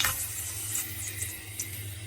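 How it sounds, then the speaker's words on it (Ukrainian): Steady, soft sizzling of flour-coated zucchini frying in a pan, with faint scraping now and then and no voices. "і жаримо на сковорідці"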